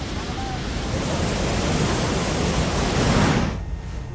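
Rushing floodwater waves roar as a steady, loud, dense wash that keeps up for about three and a half seconds before dropping away sharply to a quieter hiss.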